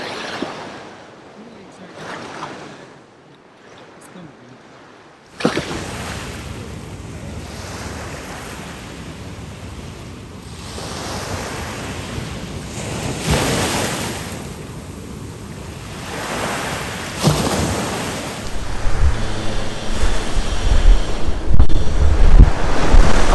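Ocean waves on the beach at Hulhumale in the Maldives, washing and surging continuously under strong wind buffeting the microphone, with a quieter opening before the roar grows louder and nearer.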